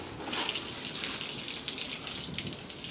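Water sprays steadily over a Porsche being washed in dusty Kuwait, making a continuous close hiss with small splashing surges and no voices.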